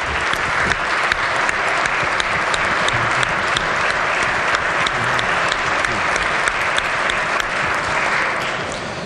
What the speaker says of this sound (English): Please rise and give him a hand of applause.